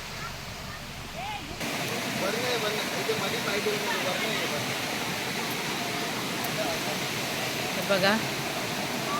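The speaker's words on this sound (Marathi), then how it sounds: "असं शांत बसून पाण्याचा आवाज ऐकणं" A river in Konkan rushes steadily in a forested riverside spot, a broad continuous wash heard up close, with people talking and birds calling now and then over it.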